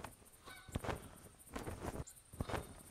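Canada geese in the hunting game theHunter Classic honk in repeated bursts as a small flock of three birds comes in, the calls coming at a steady rhythm, fairly faint and distant, with no talk.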